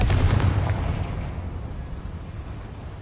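A fiery spell explosion from the Confringo charm in Hogwarts Legacy bursts with a loud, booming blast at once, then rumbles and fades over a few seconds, with no voices.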